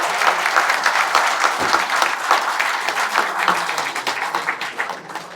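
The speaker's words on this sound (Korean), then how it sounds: "우리 다 같이 박흥률 동문한테 격려의 박수 한번 부탁하겠습니다" An audience at a book concert claps and applauds steadily, a dense wash of many hands filling the room and tapering slightly toward the end.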